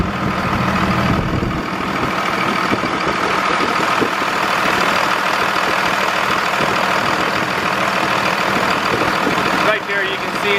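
A second-generation Dodge Ram with a Cummins diesel engine idles steadily nearby, a loud continuous low rumble and clatter that holds level throughout with no revving.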